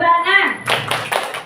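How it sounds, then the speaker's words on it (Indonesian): Children clap a 3-6-9 rhythmic pattern, a few sharp hand-claps in quick succession following a brief stretch of voices, close and fairly loud in a classroom. "369 tepuk tangan"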